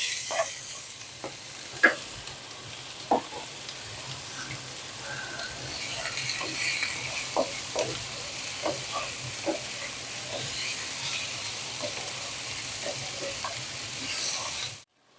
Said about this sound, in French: je viens rajouter le poivron rouge. Et on fait revenir à peu près entre 5 et 6 minutes